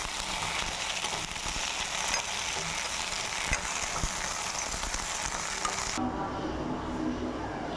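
Okra (ladies finger) frying in a pan for a Tamil poricha kuzhambu, a steady broadband sizzle with occasional stirring scrapes, which drops to a softer, quieter hiss near the end.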